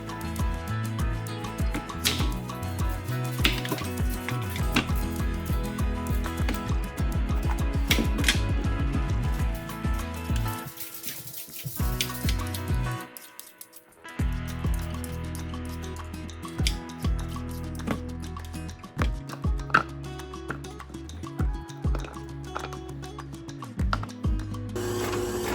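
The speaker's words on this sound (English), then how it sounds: "now that we have our squash grated" Butternut squash grated by hand for Filipino okoy, a busy run of rapid rasping strokes with crisp scraping clicks, then a brief pause before slower, sparser scrapes resume, close and fairly quiet.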